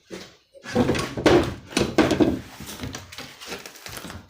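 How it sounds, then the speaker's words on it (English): Cabinet doors, house doors and drawers being opened in the basement and downstairs of a house under renovation, a run of close wooden knocks, rattles and thuds with no talk. "I'm opening up all these cabinets and doors and drawers and stuff"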